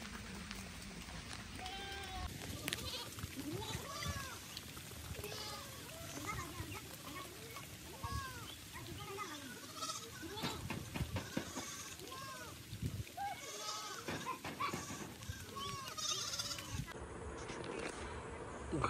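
A herd of goats on a goat farm in Jhargram, West Bengal, comes back from grazing in heavy rain. Repeated overlapping bleats, fairly quiet, rise and fall against a soft wash of background noise.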